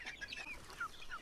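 Free-range country chickens pecking at chopped banana stems, with a few soft clucks and brief chirpy calls scattered over a low, continuous yard background.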